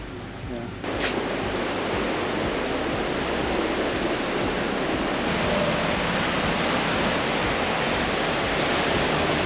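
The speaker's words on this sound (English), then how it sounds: "Look at how the water really crashes to the rocks." A river in the Boquete highlands of Panama rushes as white water against rocks, a loud, steady broadband roar that fills the scene without a break.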